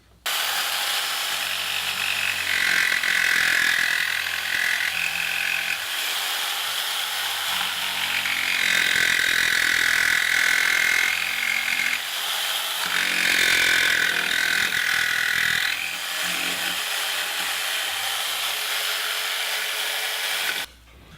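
A power tool cuts a cutout in a wooden board clamped to a table, giving rough buzzing bursts of cutting that start and stop several times, close and loud, with short pauses between passes.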